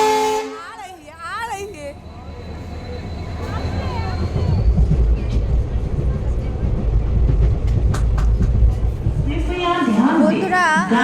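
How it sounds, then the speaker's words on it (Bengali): A train arriving at a station, a low rumbling roar that builds and holds under scattered clanks and a faint horn-like tone, with people talking nearby at the start and end. "অনেকক্ষণ বাদে গাইস আমাদের ট্রেনটা এসে গেছে"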